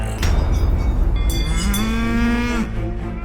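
A cow lets out one long, loud, close moo that rises and holds before breaking off. Steady outdoor rumble runs underneath it.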